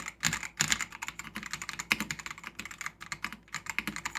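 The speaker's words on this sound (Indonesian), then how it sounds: "Keyboard ini adalah keyboard mechanical yang wired yang sudah punya 5 sound dampening media yang suara stoknya" Continuous fast typing on an Ajazz AK820 wired mechanical keyboard with built-in sound dampening, stock setup, producing dense, close clacky keystrokes in a steady rapid rhythm with no voices.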